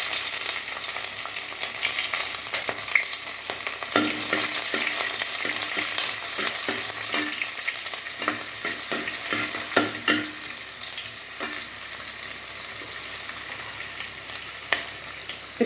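Garlic cloves and onion sauté in a pan for cauliflower thoran, giving a continuous loud sizzle with scattered scraping and stirring knocks throughout.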